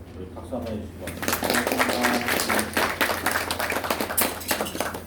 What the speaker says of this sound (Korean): 우리 박수 한번 해주시고